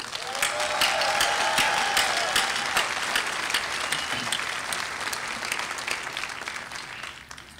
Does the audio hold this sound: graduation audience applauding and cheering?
yes